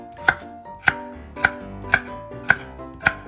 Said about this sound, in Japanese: これを乱切りにしておきます